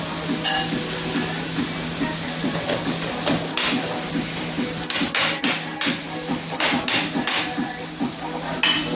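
Scallions and onions sauté in butter in a pan over medium-low heat, giving a steady close sizzle. Intermittent clinks and stirring knocks sound over it, and no speech is heard.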